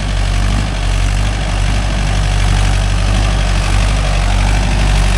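A Mahindra Yuvo Tech Plus 585 4WD tractor engine runs loudly and steadily up close in a field, a deep continuous rumble with a slightly uneven throb and no talking.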